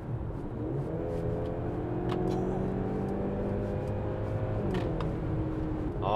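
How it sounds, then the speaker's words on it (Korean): A Mercedes-Benz GLC 300 4MATIC with a 2.0-litre inline-four turbo petrol engine and nine-speed automatic kicks down from eighth to third gear at 90 km/h, the engine drone rising steadily in pitch over road and wind noise from inside the cabin. "시속 90km로 달리다가 추월 가속을 해보는 건데 기어를 8단에서 3단까지 순식간에 내립니다"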